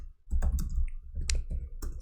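Clicky keys on a cheap computer keyboard tapped in quick irregular bursts, close and fairly loud, with no talking over them.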